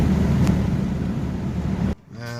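A 1993 Chevrolet S10 pickup with a 4.3 engine drives with a steady, loud low engine drone, then the sound drops sharply near the end before rising into a higher whine as it shifts and pulls again.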